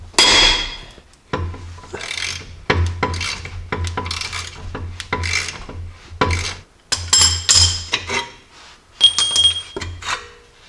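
A breaker bar working at a Jeep lower control arm bolt, irregular metallic scrapes, clicks and clanks in short bursts close up, with pauses between efforts and no speech.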